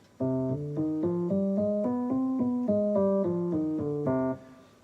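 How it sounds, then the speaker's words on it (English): An instrument plays a C harmonic minor scale, one steady note after another rising then falling, about a dozen notes in a clear even rhythm. "This is all based off of the C harmonic minor scale,"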